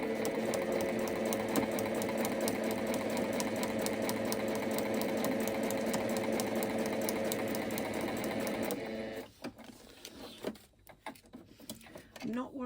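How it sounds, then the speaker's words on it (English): A sewing machine runs a steady stitching whir along a small half-centimetre seam, close and continuous for about nine seconds before stopping, followed by quieter handling rustles. "we're just going to sew these together."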